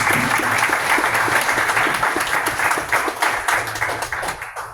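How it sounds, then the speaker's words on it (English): Sustained audience applause at a tech demo night, a dense steady clapping from a crowd that carries loudly for several seconds before thinning slightly toward the end. "Let's give Tom a round of applause."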